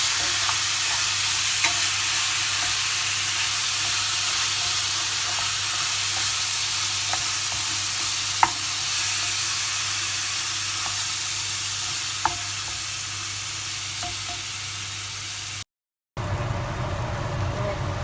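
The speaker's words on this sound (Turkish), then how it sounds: "Kıymayı böyle tencereye koydum. Pişirmeye başlıyorum." Minced beef...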